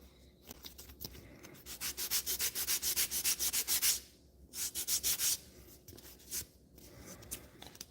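Hand sanding on a foam case with a small scrap of sandpaper: quick rhythmic scratchy strokes in close bursts, a long run of about a dozen, then shorter sets separated by pauses.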